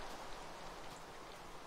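Rain falls in the game TerraFirmaCraft as a steady, soft hiss of drops, faint and even throughout with no talking.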